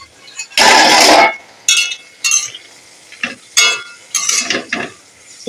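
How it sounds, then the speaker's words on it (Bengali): A spatula works through drumstick leaves fried with coconut in a pan, giving a long scraping rustle followed by several short clinks and scrapes in an uneven rhythm, close and fairly loud. "ঢাকাটা খুলে আমি একটু শাকটা নেড়ে দেবো"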